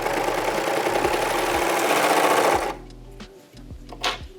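A serger sewing machine stitches a fabric scrunchie in a fast, loud continuous whir for about two and a half seconds, then stops, leaving soft handling noises and faint clicks.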